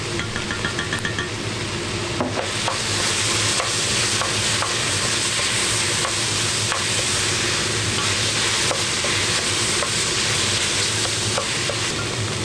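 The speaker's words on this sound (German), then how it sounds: "Auch ein bisschen Tomatenmark mit anbraten." A steady, loud sizzle of tomato paste frying in a hot pan, with occasional scraping and stirring clicks, no voices.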